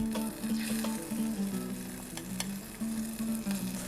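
Flour frying in melted butter in a pan, a soft steady sizzle with light stirring scrapes, close and fairly quiet, no talking.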